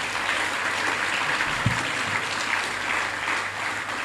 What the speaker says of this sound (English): Can we give Ares Holdings a round of applause,